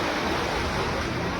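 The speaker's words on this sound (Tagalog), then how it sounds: "Nakakatakot nga kasi ang lalakas ng alon ngayon." A strong, continuous roar of surf and churning seawater near a sea cave at El Nido, Philippines, loud and close, with no break in the rushing noise.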